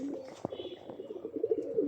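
A Jalali pigeon coos softly in short, rolling phrases at close range, with someone talking over the birdsound.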